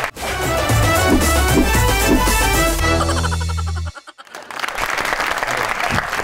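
Studio audience applause on a Pakistani dance and music show, loud and dense with a tonal music sting under it, then a brief cut-off and a rougher crowd wash resuming toward the end.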